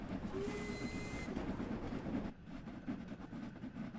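Steam locomotive in Train Sim World 3 gathering speed, a steady loud rumbling hiss with rail clatter that drops slightly in intensity partway through.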